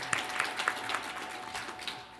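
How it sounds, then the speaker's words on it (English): A gathering at a Hindu temple in Toronto breaks into a steady wash of applause, moderately distant and fairly soft, with scattered sharper claps, over a faint sustained tone. "big round of applause."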